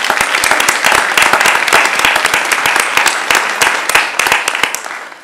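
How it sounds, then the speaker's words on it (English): An audience at a school board meeting applauds, dense overlapping hand claps sustained at a steady, loud level for several seconds with no voices on top. "So another round of applause for Rowan."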